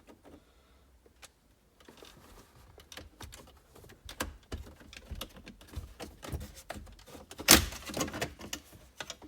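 A plastic interior trim panel pried off inside a BMW: a series of close, sharp plastic clicks and creaks, growing denser and louder, with one loud snap as a clip releases near the end.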